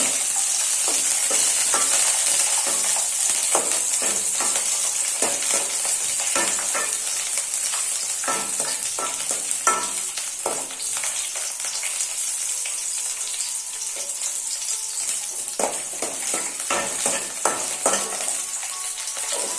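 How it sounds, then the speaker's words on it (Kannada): Chillies fry in hot oil for a jackfruit seed and banana curry, giving a loud, dense crackle and sizzle with rapid popping bursts that carry on steadily throughout. "ಈಗ ಎಣ್ಣೆ ಕಾದಿದೆ ಇದಕ್ಕೆ ಸ್ವಲ್ಪ ಮೆಣಸು ಹಾಕುವ"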